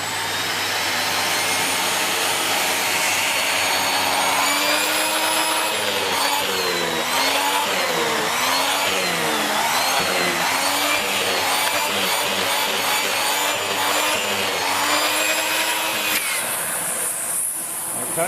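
A SEBO Felix Rosso upright bagged vacuum cleaner running at raised power with its turbo brush, a loud, continuous roar whose pitch wavers as it moves, with a higher whine rising near the end.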